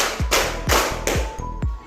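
Students in a classroom clap together on a count, four sharp, evenly spaced claps, each ringing briefly before the next, with short quiet gaps between them.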